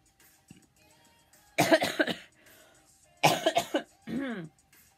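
Two bursts of harsh, close coughing a couple of seconds apart, each a rapid cluster of coughs, followed by a hoarse throat-clearing sound.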